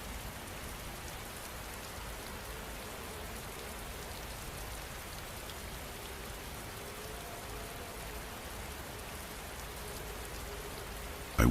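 Steady, dense rain falls continuously, a soft even hiss of drops pattering on surfaces with no breaks, ending in a brief louder burst at the very end.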